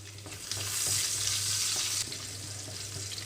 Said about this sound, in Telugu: ఆయిల్ అంతా హీట్ అయిన తర్వాత తాలింపు గింజలు అలాగే ఎండుమిరపకాయలు వేసి వేయించుకుంటున్నాను